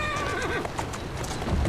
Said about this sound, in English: Who's a good horse? You are.